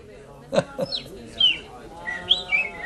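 Short bird chirps and whistled tweets come in a quick, irregular series, near and fairly clear, with a voice briefly underneath.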